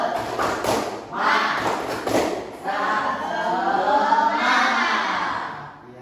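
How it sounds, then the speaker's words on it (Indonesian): A school class does a rhythmic spirit clap in a classroom: bursts of group clapping and thumping with a few children's voices, followed by a longer stretch of loud crowd noise. "Kita tepuk semangat dulu. Tepuk semangat."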